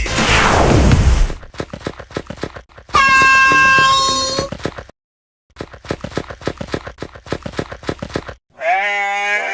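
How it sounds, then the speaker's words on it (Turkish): A goat bleats in two loud, wavering cries, mixed into a loud electronic dance track with heavy pounding beats, a sweeping horn-like blast and abrupt silent gaps. "Keçi."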